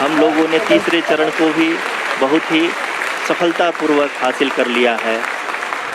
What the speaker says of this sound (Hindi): आप तालियों के गड़गड़ाहट से सुन सकते हैं कि